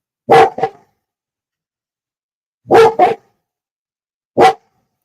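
A dog barks loudly and close by in three separate bursts, a double bark, another double bark, then a single one, with silence between.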